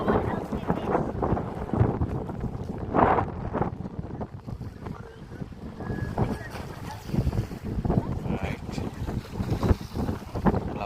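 Strong sea breeze buffets the microphone on a beach, gusting in loud bursts over distant surf, with someone talking intermittently.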